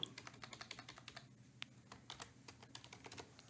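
Fingers type quickly on a computer keyboard in a faint, close, uneven run of clicks with a short pause midway, and no one speaks.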